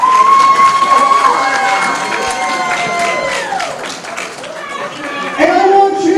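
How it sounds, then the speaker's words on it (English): A wrestling crowd cheers and claps for Dasher Hatfield, a loud mix of shouting voices, whistles and applause swelling and easing, with a voice talking through it. "give a big round of applause right now to Dasher Hatfield"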